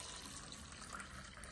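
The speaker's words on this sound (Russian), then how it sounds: "Мы вот таким образом, ну, через ситечко, да, процеживаем это молоко" Homemade almond milk, made from soaked almonds blended with water, pours and trickles through a small kitchen sieve in a steady, faint liquid wash with no voices.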